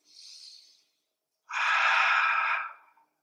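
Two breaths during a yoga stretch, a short soft inhale followed by a longer, louder, airy exhale, close and alone in silence.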